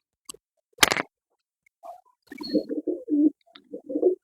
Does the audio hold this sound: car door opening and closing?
no